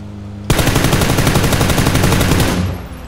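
A vehicle-mounted gun in a video game opens up suddenly and fires a rapid, loud, continuous automatic burst for about two seconds, then fades out.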